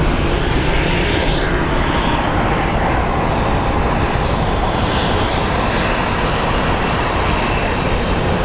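Airplanes taxiing at Phoenix Sky Harbor International Airport, a loud, steady broadband engine roar that holds evenly throughout with no talking.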